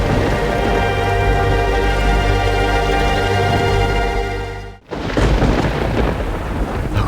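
Heavy rain with a deep rolling rumble of thunder that builds, cuts off abruptly, then gives way to a steady loud downpour.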